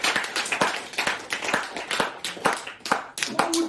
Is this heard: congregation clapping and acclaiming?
yes